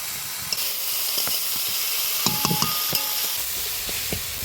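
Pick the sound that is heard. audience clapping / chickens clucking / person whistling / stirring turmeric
stirring turmeric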